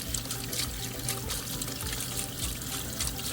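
Banana peppers are rinsed under running tap water at a sink, a steady close splashing and trickling stream with no talking.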